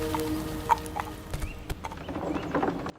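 Horse hooves clip-clop in the video game Monarchy, a quick, uneven run of light hoof knocks over a faint musical backdrop that cuts off abruptly at the end.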